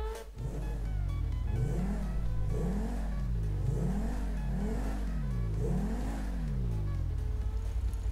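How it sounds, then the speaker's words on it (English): A sports car engine in a video game revs repeatedly, rising and falling in pitch several times, loud and close with a steady low idle underneath. "Very crisp engine. Love the sound to it."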